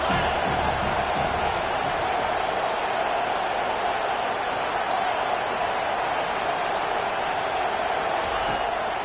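Stadium crowd at a Pitt versus Miami college football game, a steady wide roar of cheering on a big third down, dense and continuous throughout with no gaps.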